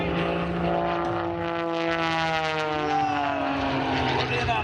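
Extra 300S aerobatic airplane engine at an airshow, a steady loud droning roar with a shifting pitch as the plane climbs straight up in a vertical maneuver, continuous and heard from a distance with no talking.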